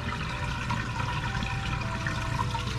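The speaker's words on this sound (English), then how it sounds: "this is my air pump. It's running through now." A pond aerator air pump bubbling water in a DIY koi pond with a three-barrel filter system: a steady gurgling, churning flow with a low hum underneath, close and even throughout, no talk.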